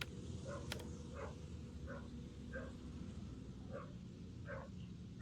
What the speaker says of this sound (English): I'm sorry if you can hear dogs barking.